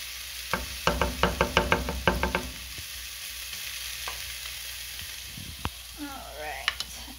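Onions sizzle softly in a pan while a utensil taps and scrapes in a quick run of rhythmic knocks early on, then scattered clicks over a faint, continuous frying hiss.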